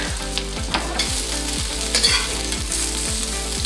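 Onions and vegetables fry in scalding hot oil in a pan, a loud continuous sizzle with crackling pops, while a utensil scrapes and stirs in a repeating rhythm.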